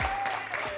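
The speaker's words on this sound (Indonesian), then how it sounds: "Berikan tepuk tangan dong untuk Kevin Rosendo Lee." Studio audience applause, a short burst of dense clapping that fills the whole moment at moderate loudness.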